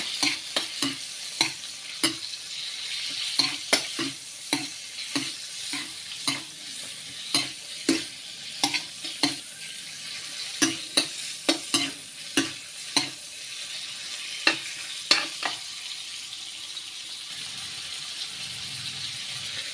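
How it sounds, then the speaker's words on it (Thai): Pork belly stir-fries in oil, with a steady close sizzle under repeated sharp scrapes and taps of a spatula against the pan in a regular rhythm, and no voices. "ใส่หมูสามชั้นนะครับของเราลงไปผัดในน้ำมันนะครับ"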